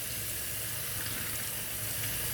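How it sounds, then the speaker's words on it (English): Cold tap water runs steadily through split peas held in a strainer over a kitchen sink, giving a constant, even rushing hiss with no pauses and no voices. "just let the water run through them for about a minute."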